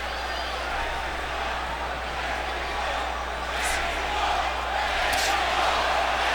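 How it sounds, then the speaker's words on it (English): A boxing arena crowd chants "Mexico" for Canelo Alvarez against Austin Trout, a dense, sustained roar of massed voices with a steady rhythm, loud and continuous throughout. "the crowd chanting, Mexico, Mexico, Mexico"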